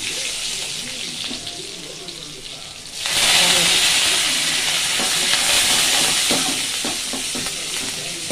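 Unpeeled garlic cloves and cumin seeds for sambar hit hot oil in a pan and burst into loud, steady sizzling that stays close and continuous, with occasional stirring scrapes underneath.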